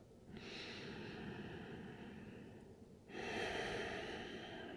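Slow, deep yoga breathing: two long airy breaths, the second louder, drawn through a slightly constricted throat, close and steady with no talking.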